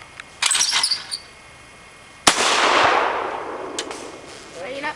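A shotgun fires once with a sharp, loud blast that rings out and decays, preceded by a few quieter clicks and knocks from handling the gun.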